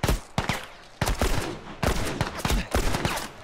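Sharp repeated blasts in The Last of Us, a rapid string of loud impulsive bangs in uneven clusters with no talking.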